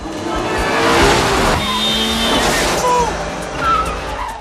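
Two cars skid and squeal their tyres loudly through narrow city streets in a reckless chase, engines roaring up close with sharp screeching bursts and a whine sweeping past.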